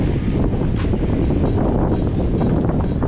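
Strong wind buffets the microphone in a steady roar while riding an e-bike in Tel Aviv, with brief gusty bursts of hiss recurring throughout; no one speaks.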